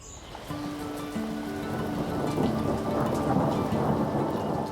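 A summer thunderstorm over an orangutan nursery in the forest: a low rolling rumble of thunder over a steady hiss of rain shower, building slightly in loudness, with faint sustained musical tones underneath.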